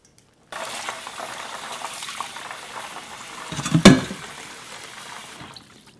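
Water pours over soaked soybeans in a bowl. It starts abruptly as a steady splashing rush, swells toward a brief louder splash, then tapers off and stops.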